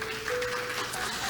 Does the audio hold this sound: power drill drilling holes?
no